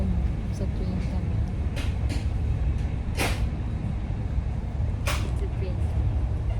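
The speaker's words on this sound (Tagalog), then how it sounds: "Nasa train kami." Steady rumbling drone inside a moving train in Tampere, Finland, a dense continuous roar with a few faint clicks and squeaks, and people talking over it.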